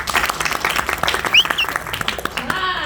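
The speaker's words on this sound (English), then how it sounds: "you all give her a round of applause also" Audience applause at a Jefferson County Democratic Party meeting, a steady patter of many hands clapping in a room, with a voice briefly audible over it.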